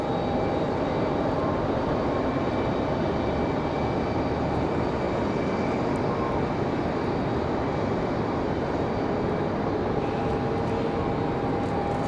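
A Lufthansa heavy jet departing runway 5 left at Raleigh-Durham, bound for Frankfurt, makes a loud, steady engine roar that holds unbroken for the whole stretch with no voices.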